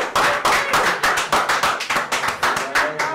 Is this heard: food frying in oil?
no